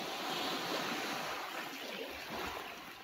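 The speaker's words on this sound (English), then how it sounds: "The ocean's nice and calm." Calm ocean waves wash ashore at dawn on Cayo Costa beach, a remote Florida barrier island, as a steady broad rushing surf with some wind noise on the microphone and no talking.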